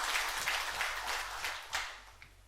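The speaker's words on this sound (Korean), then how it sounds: "우리 찬양대에게도 감사의 박수 드리겠습니다." A church congregation at a Sunday service applauds its choir with soft, fairly distant clapping in loose bursts over a low hum, thinning out toward the end.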